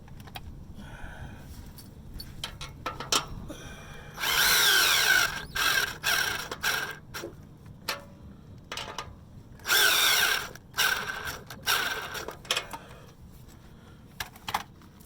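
Power tool spinning a deep socket during rusted car exhaust repair, with two loud whirring bursts of a few seconds each amid clinking tool handling and shorter mechanical clatter.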